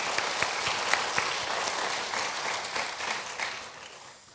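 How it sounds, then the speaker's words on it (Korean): A Sunday evening church congregation claps for its worship team after the praise music, a sustained, even round of applause with a few sharper claps that fades slightly near the end. "담아 박수로 우리의 마음을 전하겠습니다"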